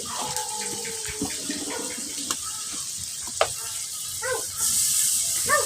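Water poured into a pan where dried fish is frying with onion and garlic paste, a running splash and bubbling hiss that swells toward the end, with a dog barking faintly nearby.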